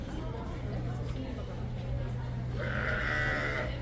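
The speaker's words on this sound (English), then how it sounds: "Oh, yep, you hear the goat noises in the background." Goats bleat from a distance at Rafiki's Planet Watch over a steady background hum, with a clearer, drawn-out bleat near the end.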